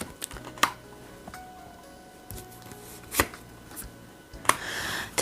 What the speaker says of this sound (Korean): 카드 뽑아 볼게요